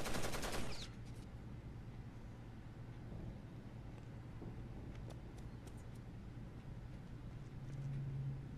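Gunfire in Rainbow Six Vegas 2: a sharp burst at the start, then quieter scattered shots over a constant low engine-like drone, with no speech.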